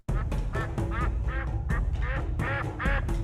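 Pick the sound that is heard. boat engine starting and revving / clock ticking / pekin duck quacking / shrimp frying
pekin duck quacking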